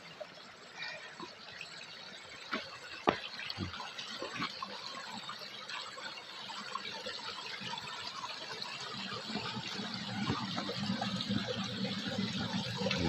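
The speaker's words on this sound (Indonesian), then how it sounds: "Ini seperti ini sungai-sungainya." River water rushing steadily over large rocks, a continuous broadband wash that swells slightly louder toward the end, with occasional splashes and knocks; no talking.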